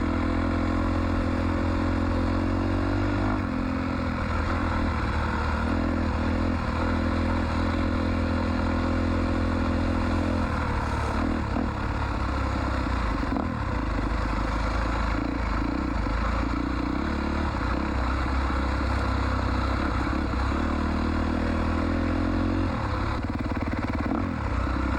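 A Honda 400EX ATV engine runs loud and steady while being ridden, with a constant close-up drone, rough clatter and slight shifts in pitch throughout, and no talking.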